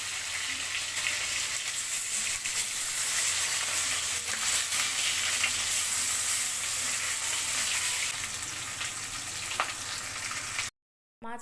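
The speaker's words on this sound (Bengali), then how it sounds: "মাছগুলো আমি এপাশ ওপাশ করে উল্টিয়ে দিয়ে ভাজি করে নিয়েছি" Rui fish pieces fry in hot oil, a steady loud sizzle with faint turning and stirring clatter, cutting out abruptly near the end.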